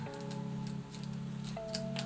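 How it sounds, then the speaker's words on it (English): Fabric scissors cut through plant stems while repotting houseplants: quiet, close snips and slides of the blades, with a short pause between cuts. "Should I be using my fabric scissors for this?"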